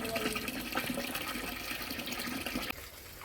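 Water drains steadily from a freshly washed thick blanket, a soft constant trickle and splash that fades slightly near the end.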